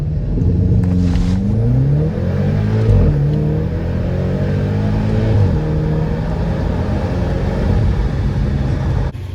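A BMW X5M launching from a stop at full throttle, its engine note climbing steeply through a couple of gear changes, loud and close from inside the cabin, with a continuous rising roar.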